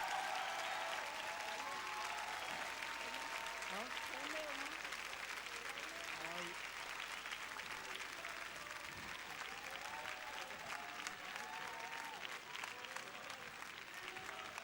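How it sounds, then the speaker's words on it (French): Steady applause from the Solidays audience at the Madiba tribute continues at an even level throughout, with voices and shouts audible beneath the dense clapping. "On l'applaudit bien fort."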